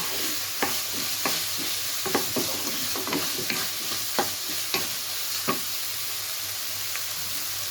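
Chicken frying in a pan for egg fried rice: a steady hissing sizzle with periodic scraping taps of a stirring utensil, close and moderately loud, no voices.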